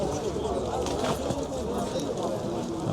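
Pigeons coo at an open-air bird market in Sabunchu, Baku, on a cold winter day, soft repeated throaty calls close by under a steady murmur of market chatter.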